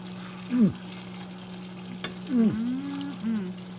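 Short ribs in barbecue sauce and butter sizzle and bubble in a pan, a steady cooking hiss beneath a constant low electrical hum, with a few brief stirring scrapes and a sharp click partway through.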